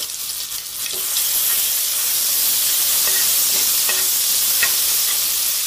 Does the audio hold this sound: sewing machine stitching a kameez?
no